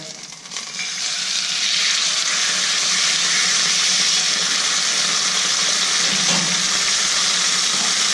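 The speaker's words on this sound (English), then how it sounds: "should get a nice sizzle sound when it hits the pan." Loud, steady sizzling of a prime ribeye steak searing in a hot stainless steel All-Clad pan, a continuous crackling hiss that holds strong and close for several seconds.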